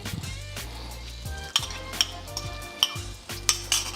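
An egg cooks in a hot greased pan for chicken fried rice, a soft steady sizzle broken by several sharp metal utensil clinks and scrapes.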